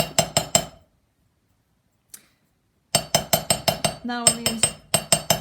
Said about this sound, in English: I shouldn't talk over my hammering